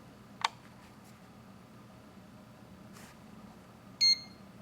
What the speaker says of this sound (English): Ooh, that was a scary beep.